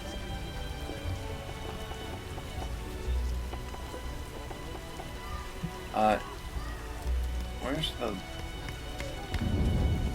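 Steady rain falls in The Witcher, a soft continuous patter across the whole scene, with footsteps and brief game effects over it and a low rumble near the end.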